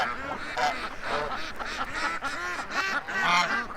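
Several ducks quack in a close, busy chorus, overlapping calls repeating without pause through the few seconds.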